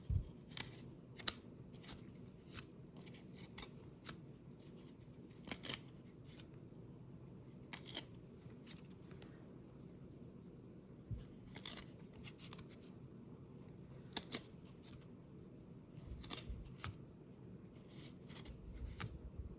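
1994 Fleer baseball cards are peeled apart from a freshly opened wax pack, giving scattered sharp, close ticks and crackles over a quiet background, spaced irregularly across the stretch.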